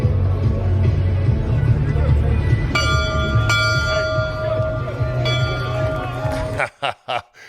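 A bell is rung by a fan after a football game: a series of bright, ringing clangs with lingering overtones. Crowd hubbub and voices run underneath throughout, and a few louder bursts close the clip.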